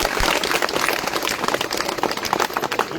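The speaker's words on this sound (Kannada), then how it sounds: "ಇದು ಬರೀ ಚಪ್ಪಾಳೆ ಆಗ್ಬಾರ್ದು" Dense, continuous clapping from a crowd at a devotional gathering at the Sri Kshetra Durgasthala shrine, held steady and fairly loud throughout with no talk over it.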